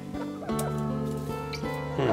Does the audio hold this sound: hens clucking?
yes